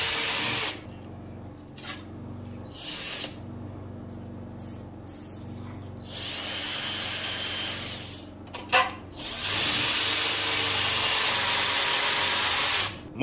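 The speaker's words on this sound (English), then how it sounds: "You're gonna wanna keep this drill bit lubricated, because like I said, you definitely don't want to have this break inside the block." A drill bores a long oil passage into a 383 big block engine block in bursts. A high, steady whine and grinding comes up close, stops for a moment, then starts again and runs longer. There is a short clatter partway through.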